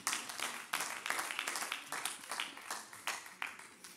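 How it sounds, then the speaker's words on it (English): Church congregation clapping as a praise offering, a moderately loud spread of hand claps with irregular bursts of sharper claps throughout, no talk over it. "Give the Lord a clap offering of praise."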